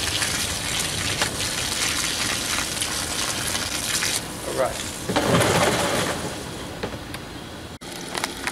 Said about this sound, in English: Let's put water in this.